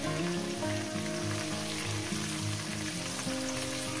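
Potatoes seasoned with a little salt and turmeric fry in oil in a home kitchen pan for a chicken skin curry, giving a steady, dense sizzle throughout with tonal background sounds layered over it.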